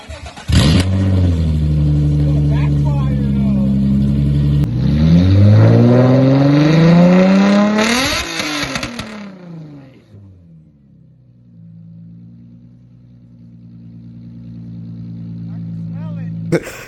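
A Nissan 350Z engine running with its exhaust completely removed idles loudly, then revs up in rising, raspy roars before settling back to a rough, droning idle, close and very loud.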